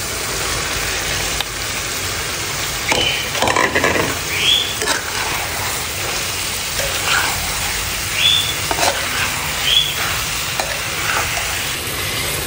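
Chopped potatoes frying with softened tomatoes in a pan give a steady close sizzle, broken now and then by stirring scrapes; no one talks.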